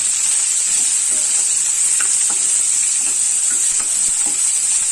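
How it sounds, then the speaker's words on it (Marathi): Sliced onion sautés in hot oil for a Malvani wet coconut masala, making a loud, continuous close-up sizzle with light stirring clicks scattered throughout. "आणि आता हे तीनही वस्तू आपण व्यवस्थित तेलामध्ये परतून घेऊया."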